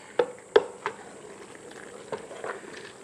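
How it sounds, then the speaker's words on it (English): Meat being fried in a pan for Bolognese sauce gives off a quiet sizzle, broken by a few sharp scrapes and clinks of a utensil stirring it. The sounds are close and fairly faint, with no talking. "Let it fry"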